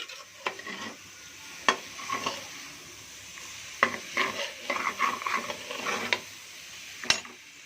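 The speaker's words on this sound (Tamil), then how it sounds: "இதோட சேர்த்து நல்லா அப்படியே கலரி விடுவோம்" Bottle gourd pieces being stirred with masala in a pan, a spoon scraping and clinking against the metal in irregular bursts over a soft sizzle, close and moderately loud with no talking.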